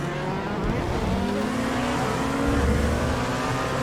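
Race car engine in a sim racing game at Hockenheim, droning steadily and loud throughout, with pitch steps that suggest downshifts and no talk over it.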